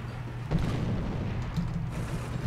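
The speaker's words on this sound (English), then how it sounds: "it's just constant artillery support that I'm calling it" Artillery shells exploding in the tank combat video game War Thunder, with deep booming blasts landing around 0.5 and 1.5 seconds over a steady low rumble of battlefield noise.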